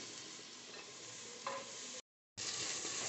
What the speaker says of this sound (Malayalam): അതുപോലെ തന്നെ ക്യാരറ്റ് ഇട്ട് നമുക്ക് കുറച്ച് സമയം ഒന്ന് വഴറ്റിയെടുക്കാം.